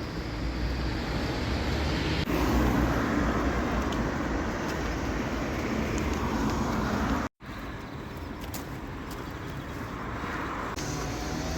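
Cars drive over a road bridge, making a steady, loud wash of traffic rumble and tyre noise that fills the whole stretch, briefly cutting out once, with no talking.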